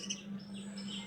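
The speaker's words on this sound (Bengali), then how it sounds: "সকালবেলা শুরু হয় পাখির আওয়াজ, কিচিরমিচির শব্দ" Birds chirp faintly in the morning around a rural home, short high tweets over a steady low electrical hum in a brief, quiet stretch.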